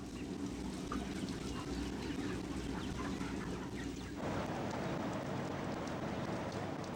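A dense crowd of broiler chicks chirps and peeps continuously and loudly, close by, with the noisy flock growing even denser partway through.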